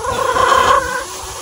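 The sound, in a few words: Kelso broodcock rooster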